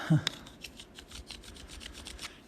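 Rubbing down bumpy lead-tin solder on a stained glass piece, a steady rasping scrape that repeats in quick, even strokes, close and moderately loud, with a small knock near the start.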